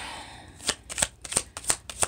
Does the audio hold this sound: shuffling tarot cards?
yes